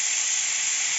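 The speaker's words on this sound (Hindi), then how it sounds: "हल्का सा फ्राई करेंगे अदरक लहसुन को भी, ताकि इसका कच्चापन ख़त्म हो जाए।" Ginger garlic paste frying in a pot gives a steady, bright hissing sizzle, continuous and close, with no voices.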